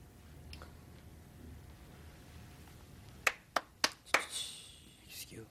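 A single person claps a few times, four sharp separate claps close by, briefly interrupting a quiet room.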